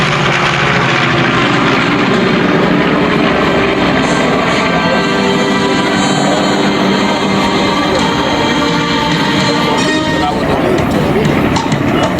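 B-25 bomber flying past at an airshow in Beaufort, South Carolina, a broad, steady roar of piston engines and propellers that stays loud throughout, with an announcer's voice talking over it.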